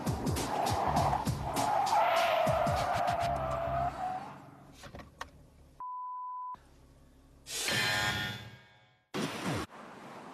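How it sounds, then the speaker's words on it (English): A car swerves and brakes hard at 80 km/h during an emergency avoidance exercise on a driving course, with loud sustained tire squeal and skidding over engine noise, followed by a steady electronic beep and further bursts of tire noise. "At 80 kilometers an hour, Dean swerves to avoid the pop-out car, but he hits the brakes before the car is stabilized."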